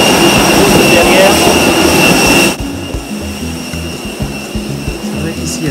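A jet airliner's engines roar loudly on the ground just after landing, a dense broadband whine that drops sharply partway through to a lower, steadier rumble.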